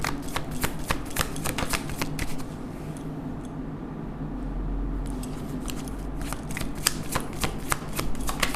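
A deck of cards is shuffled at close range during a card reading. Crisp riffling bursts come at the start and again near the end, with a quieter pause in between.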